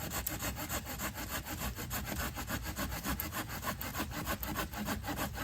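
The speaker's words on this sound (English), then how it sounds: "We'll find out when we start sawing into it if it's solid enough." A hand saw cuts through a wooden walking stick in steady, rhythmic back-and-forth strokes, close and continuous with no talking.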